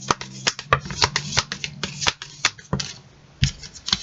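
Oracle cards from a citadel-themed oracle deck are shuffled by hand, a steady run of soft papery riffles and snaps close up, with brief pauses before cards are drawn.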